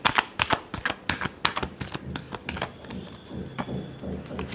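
Tarot cards are shuffled by hand in quick riffling, flicking bursts, a close and fairly loud rapid patter that eases into softer rustling toward the end.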